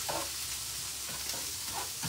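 Sliced mushrooms toasting in a hot pan for a pancit canton carbonara, with a soft steady sizzle and a few brief scraping stirs of a utensil, close and alone.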